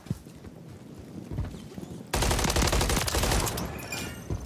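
Gunfire in Call of Duty: Modern Warfare 3 ranked multiplayer: scattered distant shots, then dense, loud rapid bursts of close automatic fire that continue to the end.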